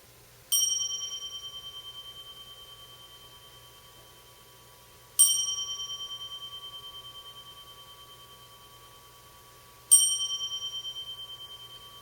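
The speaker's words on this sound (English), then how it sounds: "The Jikijitsu begins the second period of zazen by sounding the bell 3 times." A zendo bell is struck three times, evenly spaced, to open a period of zazen meditation; each clear, ringing strike decays slowly into near silence before the next.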